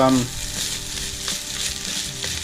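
Egg fried rice stirred with chopsticks in a hot pan, a steady loud sizzle with soft scraping stirs throughout, no voices.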